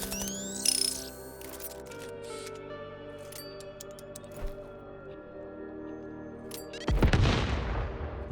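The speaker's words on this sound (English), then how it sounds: "Fireworks." Fireworks go off in the Inscryption video game. A short bang comes early, then a loud burst of booming and crackling near the end, all over quiet, steady tonal game music.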